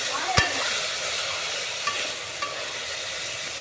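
Chana dal and tomato curry in a pan, stirred with a spoon while it fries: a steady close hiss of sizzling with a sharp tap early on and a few faint scrapes, no talking.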